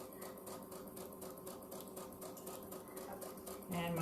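Sewing machine stitching at a slow, steady pace while piecing jelly roll fabric strips, a rhythmic mechanical patter running throughout, close and moderately loud, with a brief louder shift near the end.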